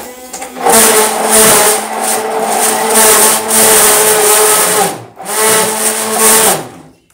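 An immersion blender whirs loudly through green goddess salad dressing with parsley and green onions, running in two long, close bursts with a short pause between them.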